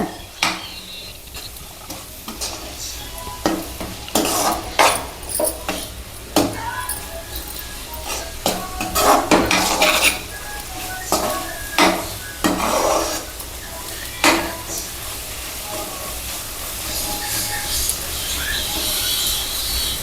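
Chili powder fries while a spoon stirs it in a pan for a Tirupati-style cluster bean and peanut powder curry, giving repeated close scrapes and clinks over a soft sizzle, with some speech in the background.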